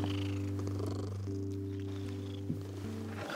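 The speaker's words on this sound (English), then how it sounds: "Listen, she's purring." A pet cat purrs close by in a steady, low, rumbling stream that continues throughout, with no talk.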